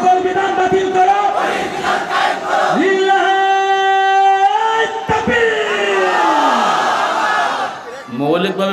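A large crowd chants a political slogan in unison, loud and close, with the rhythmic phrase repeating several times and voices rising and falling together before a brief pause and a fresh start.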